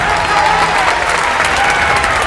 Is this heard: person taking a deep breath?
no